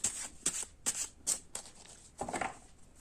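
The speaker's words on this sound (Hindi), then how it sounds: "मुझे ना 8 ऑफ कप के लिए और एक कुछ कार्ड्स निकालने हैं" Tarot cards are shuffled and drawn in quiet bursts, five or six quick papery riffles and slaps spaced close together, no talking.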